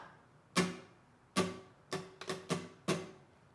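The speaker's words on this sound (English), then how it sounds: "The next thing we need to do is learn the strumming pattern for the song." Six strums on an acoustic guitar in a down-down-up-down-down pattern, each a bright full-range attack that rings and decays, the last few coming closer together; no voices.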